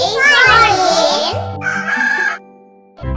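Cartoon hen clucking and crowing inside a children's phonics alphabet song, loud and close over bright synthesized music, ending in a brief pause before the song resumes.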